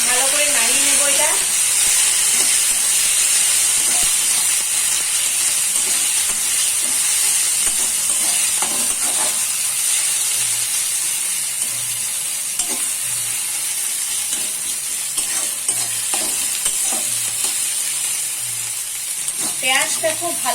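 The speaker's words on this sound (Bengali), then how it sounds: "পেঁয়াজটা খুব ভালোভাবে ভেজে নেব, লাল লাল করে।" Onions fry in oil with whole garam masala and cumin for a Bengali mutton curry, a steady loud sizzle and hiss with occasional stirring scrapes, up close and continuous.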